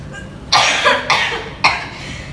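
A woman of 45 coughs three times in a row, loud and close, each cough a harsh burst with a short tail, with no talk in between.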